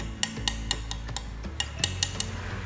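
Knuckle taps on the carbon fork of a Hongfu FM008 SL road bike, about ten sharp, close knocks with a slightly metallic, alloy-like ring, unevenly spaced and fairly soft.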